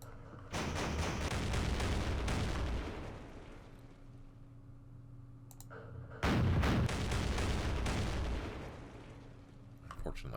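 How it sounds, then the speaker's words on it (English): Bursts of gunfire and artillery from units firing in the wargame Campaign Series Vietnam, set in the Mekong, come in two loud sustained volleys separated by a quieter pause, with no talk over them. "So let's fire at that thing."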